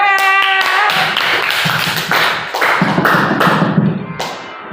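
Classroom audience clapping after a cardboard wayang puppet performance, dense close hand claps and taps in a steady burst that thins out toward the end.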